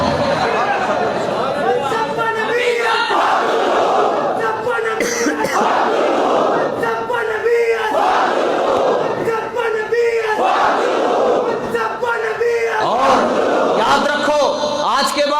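Large crowd at a religious gathering in Pakistan chants a slogan in loud, forceful unison, the shouts rising and falling in repeated waves with a shorter pause between each burst.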